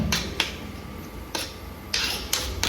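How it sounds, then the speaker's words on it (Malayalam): A spoon scraping through egg bhurji curry in a pan over a low flame, giving five separate stirring strokes at an uneven pace with quiet between them. "എന്നിട്ടൊന്ന് ലോ ഫ്ലെയിമിൽ വെച്ചിട്ട് ഇതൊന്ന് നല്ലോണം ഇളക്കി കൊടുക്കുക"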